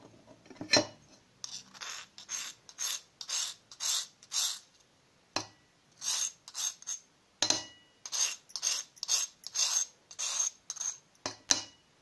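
Burnt sweet flag root rubbed against a grinding stone, giving a steady series of short rasping scrapes in a regular back-and-forth rhythm, close and clear with no talk.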